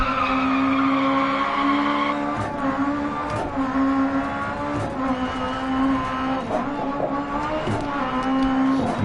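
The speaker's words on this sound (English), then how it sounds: "Oh, that was a big crash, judging from the sounds." Racing game car crash in DiRT Rally online rallycross, on a circuit with a slow chicane: a steady loud engine drone with tyre skidding, broken by a series of sharp impact clatters and thumps.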